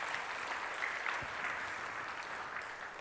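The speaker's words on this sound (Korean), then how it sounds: "하나님께 영광의 박수를 올려드립시다." A church congregation at a Sunday worship service applauds in praise, a steady, moderately quiet patter of many hands clapping throughout.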